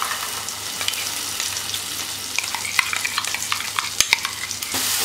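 Turmeric and red chilli powder being stirred into masala in a pan, a continuous close sizzle with repeated scraping strokes and occasional sharp spoon clicks against the metal.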